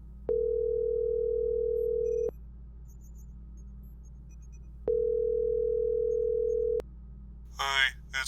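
Telephone ringback in a video game: two long, steady electronic tones of about two seconds each, separated by a pause, heard clearly and alone before a voice begins at the very end.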